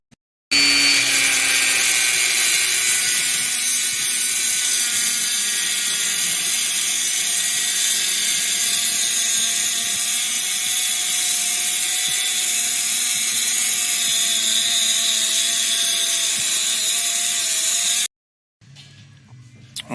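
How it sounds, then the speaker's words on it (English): A Dremel fitted with a regular cutoff wheel grinds through metal on a Kioti CK2610 tractor, a loud, steady high-pitched whine lasting about eighteen seconds before stopping abruptly. "now I got the Dremel set up here with just a regular cutoff wheel on it"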